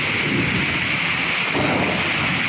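Heavy late-afternoon rain pours steadily behind a house, a dense continuous roar with low rumbling thunder mixed in underneath, loud and close throughout with no voices.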